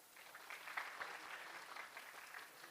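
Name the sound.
audience applause for the models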